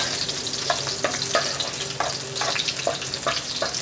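Onion sautéing in a pan, a continuous loud close sizzle broken by repeated rhythmic stirring scrapes, no talking.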